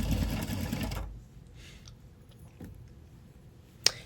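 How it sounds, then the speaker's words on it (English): A sewing machine runs steadily for about a second while stitching a neckband onto a long-sleeve crop top, then stops, leaving quiet handling noises and a sharp click near the end. "this is me just sewing the neckband on."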